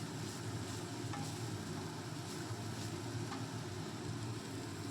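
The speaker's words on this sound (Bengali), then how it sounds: "লবণটা দেওয়ার পরে খুব ভালোভাবে নাড়াচাড়া করে নিতে হবে আর সয়াবিনটাকে বেশ লাল লাল করে ভেজে নিতে হবে" Soybean chunks are stirred and fried in a pan, giving a steady, even sizzle with faint scraping from the stirring that continues throughout at a moderate, close level.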